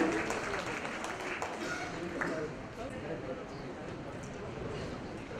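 Audience applause at a book launch ceremony, steady clapping from a crowd filling the room, moderately distant and fairly faint, with a voice speaking over it.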